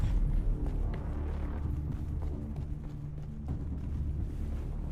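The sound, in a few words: sandstorm wind in video game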